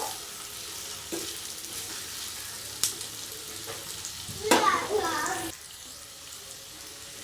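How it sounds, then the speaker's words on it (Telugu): Mixed vegetables for vegetable rice frying in a pan, a continuous sizzle broken by scraping stirs and a louder burst of hissing partway through, alone without speech. "వేసి ఒక 2-3 నిమిషాలు బాగా ఫ్రై అయ్యాక"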